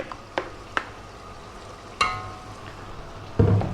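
Chicken curry cooks in a pan over medium-low heat with a soft, steady sizzle, punctuated by a few sharp clinks and scrapes of a utensil stirring against the pan, close and without talk.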